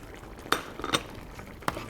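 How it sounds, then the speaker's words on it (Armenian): A spoon scrapes and clinks against a pot as a finished sauce with chopped greens and coriander is stirred, giving three sharp metallic taps among soft scraping in a quiet kitchen. "Մի հատ եմ խառնում"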